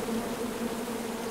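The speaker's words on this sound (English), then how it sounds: "This is angry bees." Angry bees in the King's Quest video game give off a steady, dense buzzing drone that holds evenly throughout, with no speech over it.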